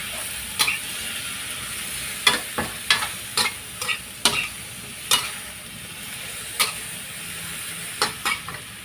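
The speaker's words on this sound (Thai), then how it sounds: "ผัดไปเรื่อย ๆ จนแหนงกระหล่ำสุกเราถึงจะทำการปรุงนะจ๊ะ" Pork belly stir-fried with cabbage shoots in a pan gives a constant sizzle under sharp, irregular scrapes and clacks of a spatula tossing the food.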